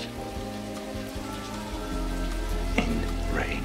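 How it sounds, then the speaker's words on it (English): Steady rain falling as a sound effect in a game-themed setting, a constant dense hiss with a faint tonal bed beneath and a brief squeaky chirp near the end. "And rain."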